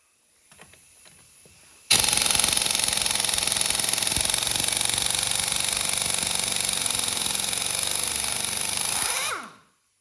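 Loud, continuous hammering rattle of an Urceri compact impact wrench on its highest setting, running in reverse to loosen lug nuts, starting abruptly after a quiet moment and holding steady for about seven seconds before cutting off.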